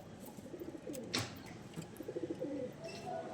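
Home-bred baby pigeons coo in soft repeated bursts nearby, with a brief flutter of wings in the middle and a low, continuous background hum.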